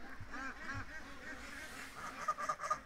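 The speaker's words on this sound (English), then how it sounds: "Is that a lot of ducks coming over, guys?" A flock of ducks flies overhead at dusk in open country, their quacks faint and distant, becoming clearer and more frequent toward the end over a low outdoor background.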